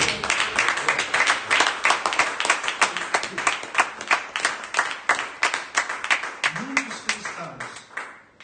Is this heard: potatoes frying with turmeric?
no